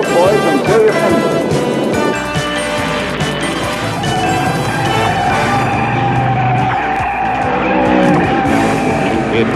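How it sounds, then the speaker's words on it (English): A stock car spins out on a race track with tires squealing and skidding loudly, engines roaring throughout and a crash at the start, under an announcer's voice. "Bill Jenkins spins out to avoid him. But Marty Mount sees him too late."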